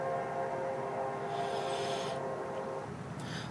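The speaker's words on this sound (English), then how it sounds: "Maybe that's a train coming through." A train horn sounds in the distance, a sustained, steady multi-tone blast that holds throughout with a faint rumble beneath, moderately loud and without voices.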